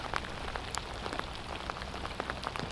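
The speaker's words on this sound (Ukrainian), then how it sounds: "дождик рядить. Третій раз такий пускається. Серйозний." Rain falls steadily around a small boat during summer pike fishing, a close, even patter of drops on the surface with scattered sharper taps, with no voices.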